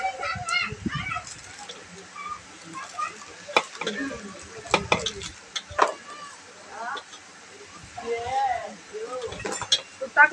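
Rice is stirred into a pot of boiling salted water for Mumbai-style chicken biryani, with intermittent scraping and clattering strokes while adults talk and children chatter nearby.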